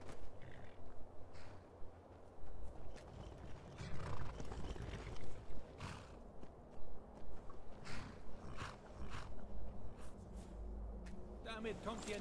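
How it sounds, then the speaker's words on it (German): Horse hooves clip-clop in the video game Skyrim, a rhythmic run of hoofbeats mixed with game effects, while someone talks over them at intervals. "So, jetzt klaue ich mir das Pferd."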